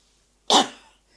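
A single sharp, harsh cough up close, bursting out and trailing off quickly in an otherwise quiet room.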